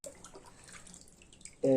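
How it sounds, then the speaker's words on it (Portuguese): Water runs at low flow from a tap while hydro-dipping film is washed, a soft, steady hiss and trickle, with a sudden louder splash right at the end. "utilizar uma torneira com água. Coloca ela com pouca vazão de água"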